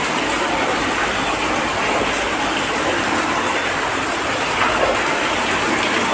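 Water from a side borewell on a farm gushes into a well with a loud, steady, unbroken roar that holds at the same level throughout, with no voices.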